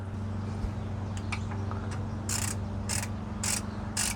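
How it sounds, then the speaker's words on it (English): A ratchet clicks as it tightens the differential drain bolt on a 2018-or-later Ford Expedition, with short bursts of rapid metallic clicking over a low steady hum and some light handling noises close by. "I'm going to put my drain bolt back in here."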